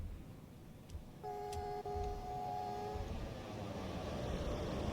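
A DB BR 101 electric locomotive in Train Sim World passing by, a steady low rumble of running gear with a sustained two-tone horn-like tone in the middle, moderately loud throughout with no talking.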